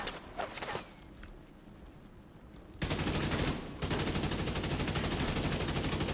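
Rapid automatic gunfire from the video game The Division 2, a dense sustained burst that cuts in abruptly after a quieter stretch of scattered shots and keeps hammering loudly to the end.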